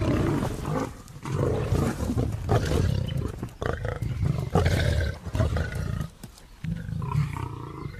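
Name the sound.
lions roaring in wildlife documentary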